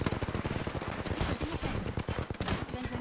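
Rapid automatic gunfire from the battle royale shooter Apex Legends, a dense rattling stream of shots at moderate distance running through the whole clip with faint voice underneath.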